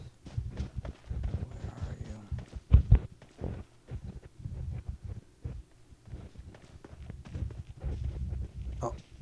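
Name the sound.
footsteps in the video game PUBG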